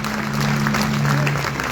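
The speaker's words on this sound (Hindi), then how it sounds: "दोनों हाथ ऊपर उठाकर कम से कम 1 मिनट तक तालियों का शोर होना चाहिए।" Steady applause from an outdoor audience at a Mahashivratri poetry gathering in Bhilwara, continuous and fairly close for the whole stretch, with a low steady hum beneath it.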